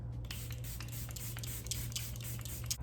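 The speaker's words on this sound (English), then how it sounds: "So I'm just going to spray my face" Several short bursts of setting spray misted onto a face hiss close by, spaced irregularly over a steady low electrical hum.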